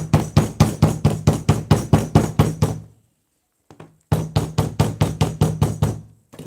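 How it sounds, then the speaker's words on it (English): A hammer strikes leather for handmade wedge sandals in a rapid, even run of loud, close knocks, pauses for about a second, then resumes at the same brisk pace. "you can decide to just pick up your hammer"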